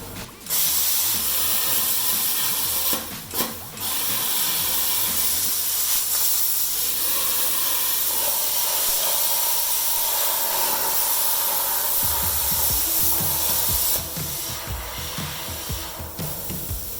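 Everlast Power Plasma 25i XTR plasma cutter cutting through thick painted steel plate, a loud continuous hissing roar with brief interruptions, followed by crackling sputter near the end.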